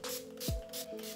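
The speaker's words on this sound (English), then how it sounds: "I like a spray just because I can really direct it to where I want." Leave-in detangler with a minty scent sprayed from a spray bottle onto curly hair, heard as two or three short airy hisses in quick succession, close and fairly quiet.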